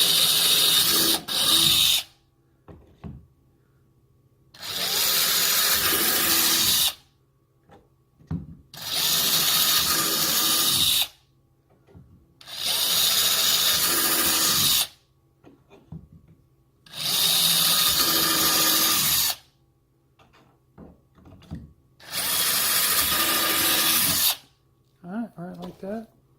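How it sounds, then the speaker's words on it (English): Power drill boring pilot holes into the HDPE plastic hull of a kayak, five loud bursts of about two seconds each separated by short pauses, with faint talk and handling noise in the gaps. "Once you get your pilot holes drilled like that"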